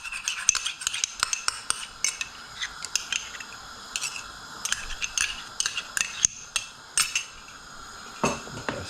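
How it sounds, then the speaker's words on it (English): Spoon stirring a pork faggot mixture with tomato puree, Worcestershire sauce, salt and pepper in a pot or bowl, giving close, repeated scraping clinks in an irregular rhythm with no talk. "Give that a stir"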